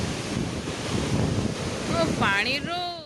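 Strong wind buffets the microphone in a steady roar near open water, with rushing water beneath and a brief voice near the end.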